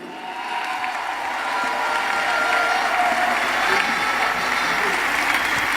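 Audience applause at a network-marketing talk, a dense, steady wash of clapping that swells slightly and holds level for several seconds with no voice on top.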